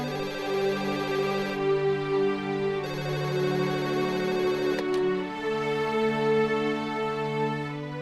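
A telephone rings with a steady, sustained electronic ringtone, its tone repeating in long, loud phrases with no one speaking over it.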